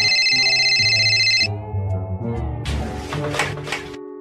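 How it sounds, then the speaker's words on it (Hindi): A telephone rings in a room, a steady electronic tone repeating through the first second and a half, then giving way to clattering handling sounds and faint movement. "साहब जी, फोन बज रहा है"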